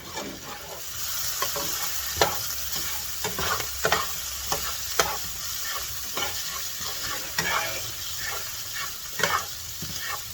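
A spoon repeatedly stirs spaghetti meat sauce in a pan, giving steady close scraping and clacking over a continuous sizzle, with sharp knocks scattered through.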